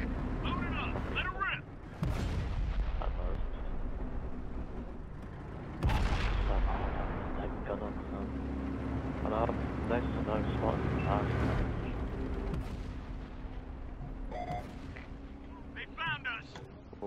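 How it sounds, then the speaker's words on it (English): Tank cannon shots in a tank combat video game, two heavy booming blasts a few seconds apart followed by rumbling engine noise and smaller firing sounds, with a voice talking throughout. "Ready to fire on target."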